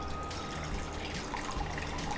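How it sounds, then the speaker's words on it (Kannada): Water is poured into a cooking pot to boil pasta in a kitchen, a soft, fairly faint splashing and trickling that runs steadily throughout. "ಎಸ್, ನೀರು ಹಾಕ್ಬೇಕು."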